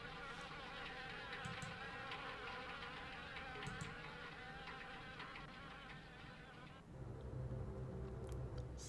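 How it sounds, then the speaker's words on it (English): Wasps buzz steadily inside a house in the video game Harvester, a dense continuous insect drone filling the whole stretch, shifting slightly in tone partway through, with no voices. "This lady lives in a wasp house. There's wasps in the ice box. There's wasps in the cabinets."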